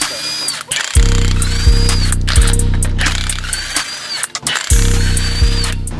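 Brushless impact wrench firing in loud repeated hammering bursts, a rapid rattling ratchet with short pauses between pulls, close up as wheels are worked on.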